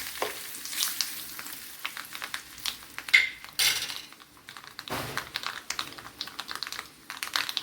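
Mustard seeds and dried red chilies crackling in hot oil for chicken kurma, with busy irregular popping and sizzling, spoon scrapes and clatters against the pan, close and fairly loud.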